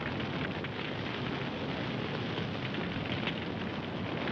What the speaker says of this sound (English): We're on fire!